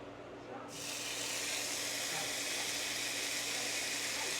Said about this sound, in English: So let's go ahead and get this delicious bacon layered in there.